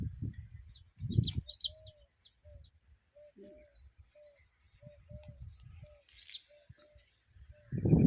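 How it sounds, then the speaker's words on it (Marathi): Birds chirp and call repeatedly at a farm field, a light series of short tweets over low rustling noise, with a brief burst of higher chatter near the end. "पक्ष्यांचा आवाज पण आपल्याला ऐकू येतोय"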